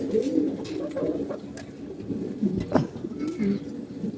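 Female pigeons in a coop, recently recovered from illness, coo in low repeated throaty rolls, close and fairly steady, with several birds overlapping and a few brief higher calls.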